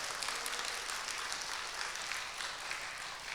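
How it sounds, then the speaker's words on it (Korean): A church congregation claps together through a Sunday worship service, a dense, steady wash of applause that holds at an even level from start to finish with no voices standing out. "박수 치셔야 돼요"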